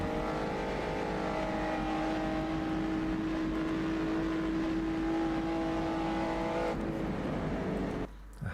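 A GT race car engine from the rFactor 2 racing simulator drones at a steady high pitch for several seconds, held revs under load, then cuts briefly near the end.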